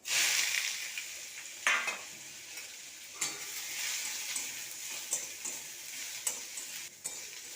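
Radish greens tipped into hot oil tempered with dried red chilli and black mustard seeds, giving a loud, steady sizzle with sharp bursts where the leaves hit the pan and are stirred, with no talking.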